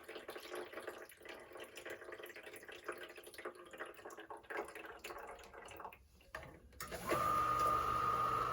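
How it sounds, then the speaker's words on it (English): A VCMA-20ULS condensate pump being filled with water: a steady splashing pour runs for several seconds, then the pump motor abruptly starts with a loud, constant whine and hum that continues to the end. "she is kicked on."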